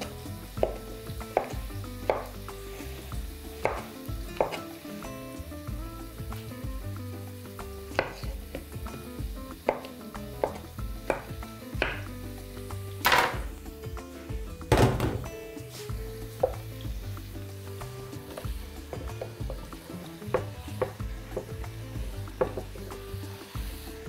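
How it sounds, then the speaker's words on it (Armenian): Chopped onion cooking in a pan while mushrooms are prepared, with repeated knife chops and clattering against a steady sizzling background, fairly close and with no voice. "Սոխը թող տապակվի, թող փափկի, նրբանա"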